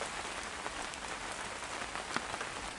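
Light rain pattering steadily on surfaces outdoors at a drift car prep session under a gazebo, a soft continuous hiss with faint scattered drops, no voices.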